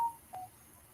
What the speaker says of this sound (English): I think that was my phone just going off saying that I got a notification.